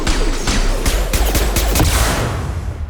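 Missile blasts and weapon fire erupt in a Mass Effect 2 firefight, with a string of sharp, loud bangs and crashes over a low booming rumble and whooshes, fading slightly at the end.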